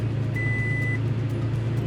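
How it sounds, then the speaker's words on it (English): A Toyota Tacoma truck engine idles with a steady low rumble right after starting, joined by one short electronic chime, close and even, no voices. "And then if I start the truck,"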